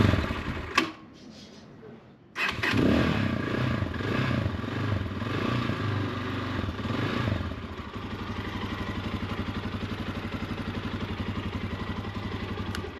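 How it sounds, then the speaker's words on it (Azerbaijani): A motorcycle's starter Bendix gear grinds and whirs as the engine cranks, a loud rattling mechanical clatter after a brief pause, then settles into a fast, steady ticking engine run close by. "O Bendix'in səsidir də abi."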